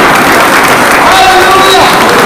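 A church retreat congregation applauds, loud dense clapping forming a steady wash of sound, with a voice speaking faintly underneath.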